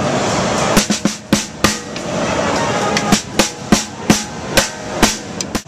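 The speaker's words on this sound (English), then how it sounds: "Do you want to give us a rim shot on that?" Rim shots on a Dynamicx drum at the NAMM trade show, a series of sharp, loud cracks at an irregular pace over a busy, noisy hall background.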